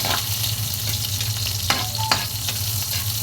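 Ginger fries in oil for squid adobo with a continuous close sizzle, broken by a couple of brief stirring knocks, and no speech.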